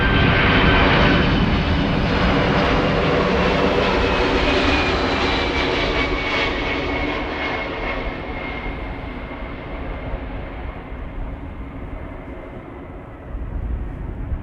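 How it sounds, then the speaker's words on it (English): A United Boeing 767-300 arriving from Chicago at Amsterdam Schiphol, a loud, steady jet engine roar with a high whine that slowly falls in pitch and fades as the airliner passes and moves away. "we have the first 767 of the show, United, arriving from Chicago."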